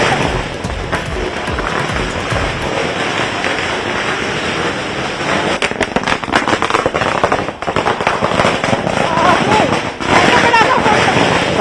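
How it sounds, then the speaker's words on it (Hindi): Firecrackers crackle and burst in a dense, continuous barrage at an outdoor political celebration in Chhattisgarh, loud and close, mixed with crowd noise and festive drumming. "पटाखे फोड़े जा रहे हैं ढोल नगाड़ों के साथ।"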